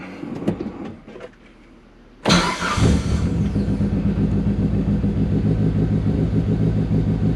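A car engine cranks and catches abruptly, then settles into a steady, loud, rumbling idle that continues close by.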